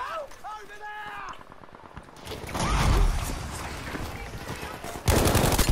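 SMG bursts in a video game, rapid mechanical shots amid game effects, with a person talking over parts of the action and a loud burst near the end.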